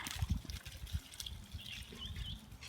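Water sloshes and gurgles inside a garden sprayer bottle being rinsed, soft irregular splashes and dribbles close by, fairly quiet.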